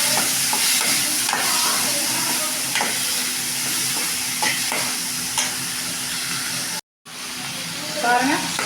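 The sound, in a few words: sautéing chillies, onion and tomato in a pan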